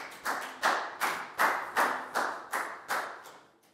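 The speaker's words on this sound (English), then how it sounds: "a big round of applause for Net" A short burst of hand clapping in a Year 4 school lesson, about ten evenly spaced sharp claps, fairly close and moderately quiet, with no talking.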